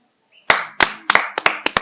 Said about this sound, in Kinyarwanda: Ni amashyi.